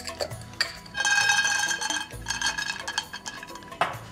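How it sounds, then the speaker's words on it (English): Peanuts dry roasting in a hot pan with a touch of salt, giving clattering metallic clinks and scraping rattles of nuts and pan, fairly close and busy throughout with brief pauses. "That'll help dry roast the peanuts even quicker."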